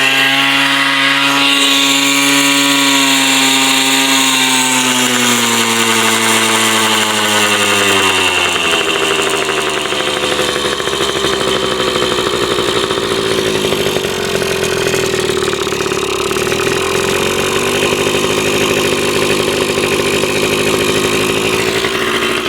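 A Suzuki DS80 80cc two-stroke dirtbike engine runs loudly and close up, with a raspy buzzing drone. Its pitch falls and settles into a steadier, rougher idle after the choke is turned off.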